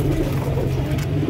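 Pigeons kept for flying and sale coo in a low, continuous throaty murmur, several birds close by with no talk over them.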